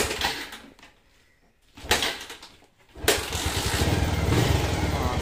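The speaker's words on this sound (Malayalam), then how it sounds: "നമുക്ക് കിക്കർ അടിച്ച് നോക്കാം." A motorcycle with a kick starter is cold-started after sitting for a week or two, with a few mechanical kicks and thumps and gaps between them, then the engine catching and running loud and close.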